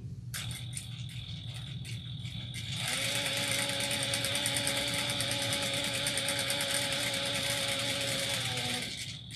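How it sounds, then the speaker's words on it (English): A sewing machine stitches a travel bag strap at a 3/8-inch seam, a steady mechanical whirring hum that starts after a few quiet seconds and runs continuously, close and fairly loud, ending just before the clip does. "So we're going to go over to my sewing machine. We're going to sew at 3/8 of an inch."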